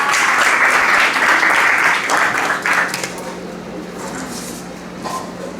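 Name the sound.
audience applauding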